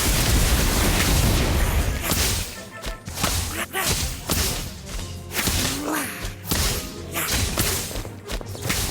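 Bursts of magical blasting from the Confringo spell in Harry Potter: Magic Awakened crack and thump repeatedly over a busy game soundscape with music, sharp whip-like strikes recurring every second or so.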